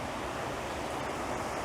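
A cascading river flows steadily on a hike toward a waterfall, a continuous broadband rush of water at moderate distance with no voices.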